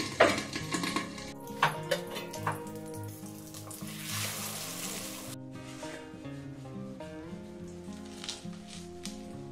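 Egg frying in mustard oil in a wok, a soft hiss under intermittent metallic clinks and scrapes of utensils against the pan, fairly quiet and close.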